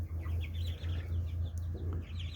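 Marans and Brahma chickens and roosters clucking in a backyard flock, a series of soft close clucks over a steady low hum.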